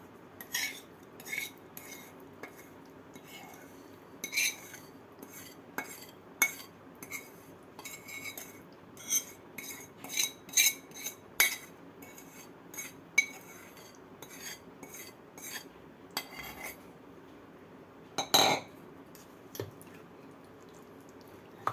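Mango pickle pieces being mixed with spice masala in a bowl, with a metal spoon clinking and scraping in irregular bursts and soft squishing between them, close and fairly quiet.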